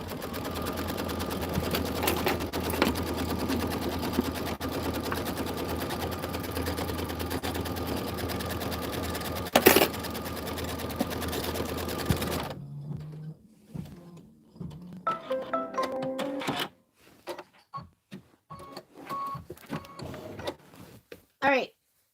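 A sewing machine runs a continuous stitch for about twelve seconds while tacking down a quilt block background, a steady mechanical whir up close, then stops, followed by quieter handling sounds and scattered clicks.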